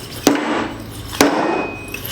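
Two sharp, loud hammer whacks about a second apart seat a dust seal on the front fork of a 2019 Harley-Davidson M8 FXLR, each ringing briefly and then decaying, close by with no speech.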